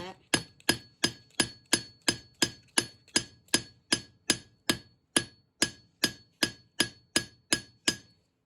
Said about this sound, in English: I'm just going to hammer the head flat